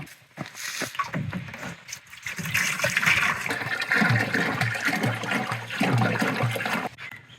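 Water runs and splashes steadily on a Frontier OS18 sawmill, a gushing flow that rises after a brief lull and continues loudly before cutting off near the end.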